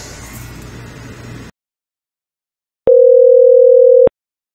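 A softphone demo call plays a single steady phone tone lasting about a second, loud and clean, after a short stretch of background noise and a moment of silence.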